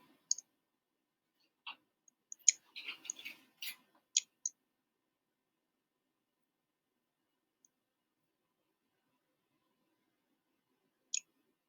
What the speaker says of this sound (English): I'm typing it in the chat.